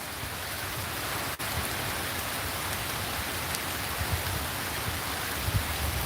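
Steady rain falls and patters continuously on surfaces, a dense, even hiss at moderate level with no one talking.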